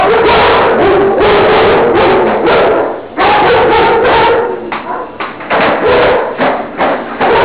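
A puppy named Crush lets out close, loud yips and short barks in quick uneven bursts, mixed with whimpering and a few soft thuds.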